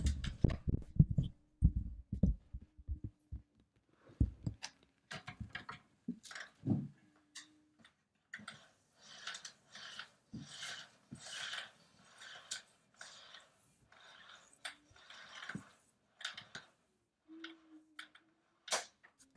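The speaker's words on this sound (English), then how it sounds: "So now I'll press the button for the cord retract and I'll pull the cord back in" The power cord of a Bissell CleanView Swivel Rewind vacuum (model 2254) reels back in, making a long stretch of fast, light clattering ticks and rattles that start after some handling knocks and stay close and moderately loud.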